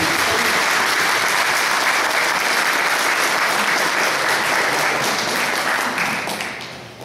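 Audience applause after a sung performance at a Christian gospel event, a dense, loud, sustained wash of clapping that tapers off near the end.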